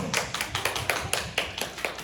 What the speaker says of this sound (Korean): 정말 환영합니다. 박수